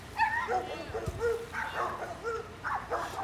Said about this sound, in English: here come the dogs from next door